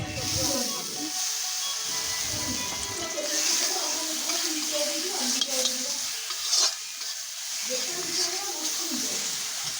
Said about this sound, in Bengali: এরপরে অল্প পরিমাণে জল দিয়ে এটাকে পুরো সুন্দর করে মিশিয়ে কষতে থাকবো।